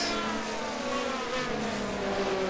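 Race car engines in an online F1 1979 race at Kyalami, a Ferrari and a Renault among them, giving a continuous droning whine with shifting pitch as several cars run close together at speed.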